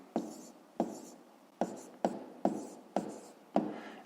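Pen or chalk writing math on a surface, a series of about seven sharp taps each followed by short scratchy strokes, faint and close, in a quiet room.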